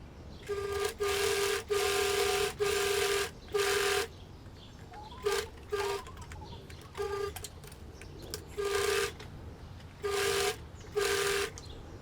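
A sewing machine runs a hem around an apron dress in repeated bursts, each a loud steady whir lasting about a second, separated by short pauses and a few quicker stitches.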